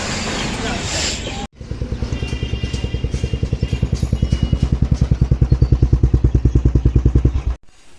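A motorcycle engine starts after a brief clatter and runs with a steady, loud, rapid pulsing thump, close by, then cuts off abruptly.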